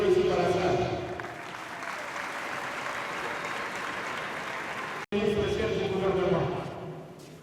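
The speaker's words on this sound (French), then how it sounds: "Je voudrais également qu'on puisse applaudir nos ministres, nos meilleurs ministres et vice-ministres qui sont ici dans la salle." A hall audience applauds government ministers and vice-ministers at an official gathering in Kinshasa, with broad, fairly quiet clapping that carries on throughout, is cut by a brief dropout near five seconds, and then swells before fading.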